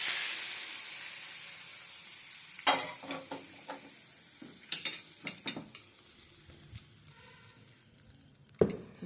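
Mustard seeds, cumin, urad dal and curry leaves splutter in hot oil for a tempering, a hiss that fades while several sharp pops and crackles burst out close by, one loud crack near the end.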